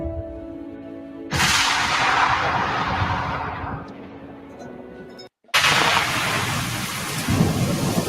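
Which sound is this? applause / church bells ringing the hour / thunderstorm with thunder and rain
thunderstorm with thunder and rain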